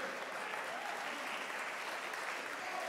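A church congregation claps together in a dense, continuous roar of hands, steady and fairly distant, with no pause across the stretch.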